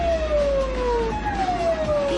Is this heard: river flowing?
no